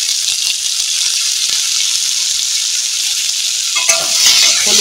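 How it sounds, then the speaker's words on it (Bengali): Turmeric being stirred into a frying amra (hog plum) chutney in a pan, a steady close sizzle of hot oil under scraping, with a brief rattle of the spoon near the end. "হলুদ দিয়ে একটু নাড়াচাড়া করে নেব"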